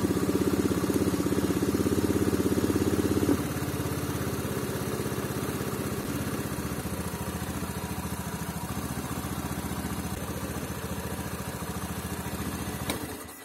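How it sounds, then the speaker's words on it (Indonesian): A Honda Beat scooter engine idles steadily at about 1700 rpm, its air mixture screw set at two and a half turns. The close, continuous hum stays even throughout, a little louder for the first few seconds, with no talking. "ini kita coba harusnya ini standar ya putaran mesinnya"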